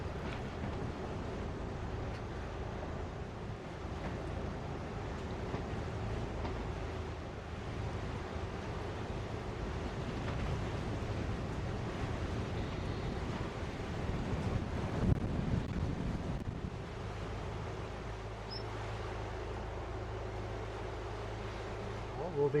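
Wind and waves at sea aboard a sailing boat, a steady rushing wind buffeting the microphone over continuous wash of water, fairly loud throughout.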